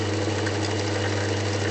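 A mini lathe motor hums steadily and close by, with a constant low whine and light mechanical buzz and no change in pitch over the short stretch.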